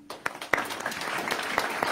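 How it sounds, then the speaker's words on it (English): Brief, fairly faint applause for teachers from a church congregation at a Sunday service, scattered clapping with a few sharper claps and some murmured voices underneath. "clap for them"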